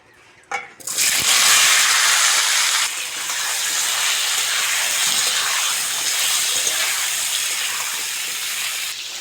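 Cut and washed pointed gourd and potato tipped into hot mustard oil with a little salt in a kadai, setting off an abrupt loud sizzle that settles into a steady, close spitting hiss.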